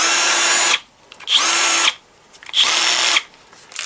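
A brushless cordless drill-driver, a Bosch or Einhell model, whirs loudly in three steady bursts of about a second each, separated by brief pauses, with no talking.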